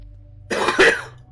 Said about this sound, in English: I do apologise for the sheer amount of coughing and throat clearing in this video